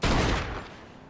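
A single loud gunshot boom in Mafia 2, fired at the gas tank of a wrecked car, with a short sharp attack and a long fading reverberant tail.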